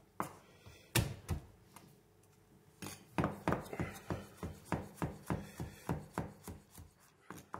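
Garlic being chopped with a knife on a board for beef lasagne, a series of sharp, rhythmic knife strikes close up, starting irregular and settling into a steady quick cadence.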